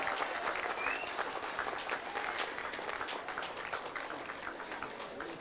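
A seated audience applauds steadily and loudly throughout a closing ceremony, a dense wash of clapping with faint voices beneath.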